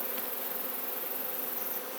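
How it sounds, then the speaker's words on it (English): Honeybees swarm around an opened backyard hive in Piedmont, producing a loud, constant, dense buzz nearby that fills the whole stretch without any speech. "You guys can see all the bees flying around."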